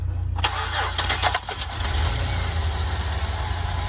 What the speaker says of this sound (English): I think that's where I'm going to stop the engine and try to start it again